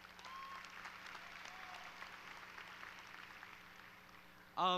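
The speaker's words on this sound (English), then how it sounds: "Give yourselves a round of applause, please" A graduating class and audience at a high school commencement applaud themselves, faint, distant, steady clapping from a large crowd heard over a low hum, ending in a sudden loud burst.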